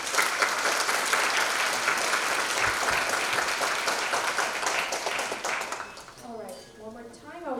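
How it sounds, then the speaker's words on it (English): Audience applause fills a high school junior college night event, a sustained dense roar of many hands that fades toward the end as a voice begins speaking. "So one more round of applause."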